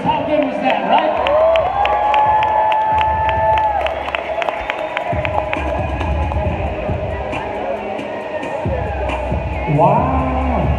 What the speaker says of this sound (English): Yo, make some noise for the riders.